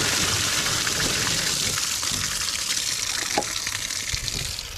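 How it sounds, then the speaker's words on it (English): A toilet flushes as its tank valve opens and water floods out, a steady close gushing rush that continues for several seconds before easing slightly, with no voices. "When you pull this lever, it opens the valve in the tank and water should flood out."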